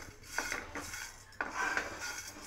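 Quiet clinks and light clatter sound as cinnamon sticks drop into a pan with cumin and fennel for dry roasting masala tea spices, giving a few brief metallic taps close by.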